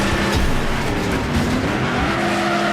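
A Firebird turned hot rod races in Next Car Game, its engine roaring loud and steady alongside squealing, skidding tires for a few seconds with no talking.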